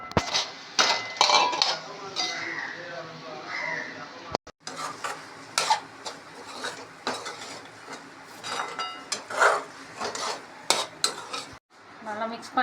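Cooked rice being mixed into soya tomato rice in a pan, with repeated spoon scrapes and clinks against the metal in an uneven rhythm, close and fairly loud, no talk.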